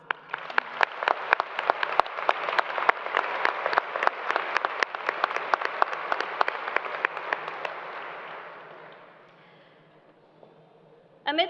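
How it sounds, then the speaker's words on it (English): High school graduation audience applauding after a list of graduates' names, sharp loud claps from many hands in a steady patter lasting about eight seconds, then fading into quiet room tone with a brief sound at the very end. "Round of applause."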